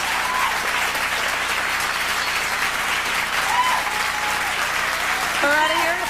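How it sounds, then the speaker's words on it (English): Sustained audience applause closing an intimate concert in Toronto, a dense steady wash of clapping lasting throughout with a few faint whistles and cheers rising near the end. "Oh, they're just going to clap forever."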